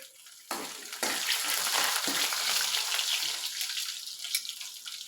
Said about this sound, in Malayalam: കടുക് പൊട്ടി വരുമ്പോഴത്തേക്ക് ഇടയ്ക്ക് തേങ്ങാക്കൊത്തിട്ട്